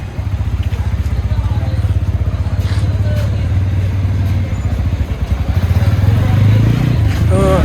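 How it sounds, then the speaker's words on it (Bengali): A Honda motorcycle ridden for the first time, its engine putting out a steady low throbbing drone that holds through the ride and rises slightly near the end. "তো তার হুন্ডা সে প্রথম চালালো।"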